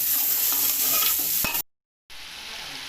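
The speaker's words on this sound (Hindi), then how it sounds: "सब्जियों को 2 मिनट तक भून कर दोबारा मिलते हैं।" Mixed vegetables for junglee pulao stir-fried in a pan, a steady close sizzle with scraping stirs, cut by a short silent gap before the frying resumes.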